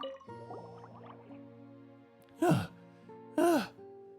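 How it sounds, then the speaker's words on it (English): A Genshin Impact character pants in two short, loud voiced breaths about a second apart, following a soft, sustained game music bed. "So they recorded panting even."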